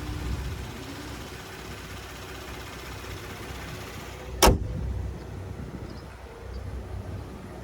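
A 2022 Genesis G70 3.3T Sport Advanced with its 3.3-liter turbocharged V6 idles in a steady, low rumble, broken midway by one brief sharp click or thump before the even idle carries on.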